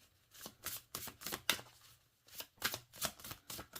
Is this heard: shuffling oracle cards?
yes